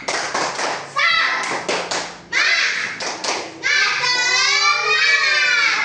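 A group of primary-school children in a classroom claps in a quick rhythmic pattern, bursts of clapping alternating with shouted chanting, ending in a loud cheer.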